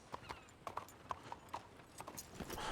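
Horse hooves clip-clop at a walk in Red Dead Redemption 2, in the town of Blackwater, a steady run of sharp, distinct hoof strikes over a faint background ambience.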